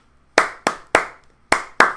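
Hands clap a short rhythm of five sharp, close claps in an uneven pattern, with brief silences between them and no talking.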